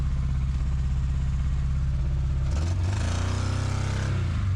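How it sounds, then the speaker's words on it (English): A toy Buzz Lightyear car's engine runs with a steady, close, rumbling drone, then rises into a brief rev partway through and settles back to a constant loud hum. "This engine's got some serious power."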